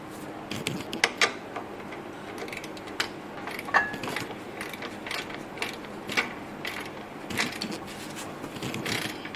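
A torque wrench tightens the CV axle nut on a 1996 Toyota 4Runner 4x4, giving off close, uneven ratcheting clicks and creaks of metal in short bursts.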